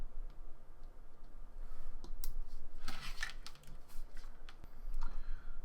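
A tiny UFL antenna connector snaps into place on an electronics board, giving a cluster of crisp close clicks and ticks against faint background noise.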